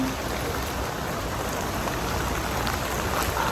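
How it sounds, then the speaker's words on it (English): Steady rain falls across New York City, a dense, even hiss of drops pattering on hard surfaces that holds at a constant level with no voices over it. "it's raining in New York City right now"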